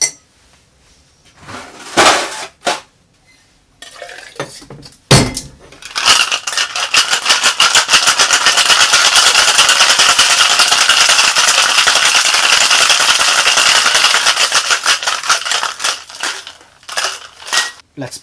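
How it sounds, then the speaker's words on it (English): A cocktail shaker holding bourbon, Fernet Branca and ice is shaken hard, giving a loud, continuous rattle of ice against metal for several seconds. Clinks and handling noises come before it, and the sound tapers into a few final rattles. "And now, let's shake our cocktail."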